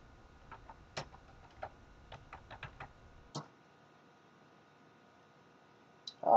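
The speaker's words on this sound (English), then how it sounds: "I'll type research paper and we'll see what we get on that." Keys tapped on a desktop computer keyboard while typing a search: a quiet run of separate clicks in an uneven rhythm, close by and alone, then a brief louder noise at the end.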